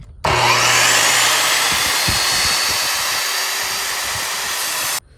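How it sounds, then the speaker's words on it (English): A sliding compound miter saw cuts a 45-degree bevel through the edge grain of lumber: motor spins up, then a loud close whining roar bites through the wood for about five seconds and stops abruptly, with no speech. "I'm gonna cut an angled cut through the edge grain of my lumber."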